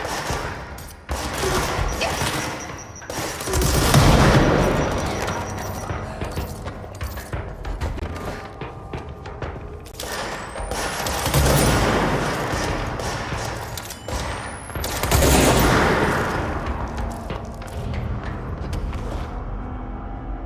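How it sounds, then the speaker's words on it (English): Gunfire and a grenade explosion in the video game Control: rapid bursts of automatic fire and heavy blasts come in waves, loud and close, with mechanical clanks between them. "the nade going off was like, I don't know, super creepy in that room"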